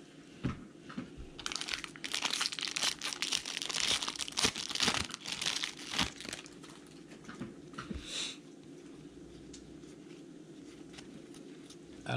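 A foil wrapper on a Topps Series 2 baseball jumbo card pack crinkles and tears close up, with busy rustling for several seconds before it settles into softer handling.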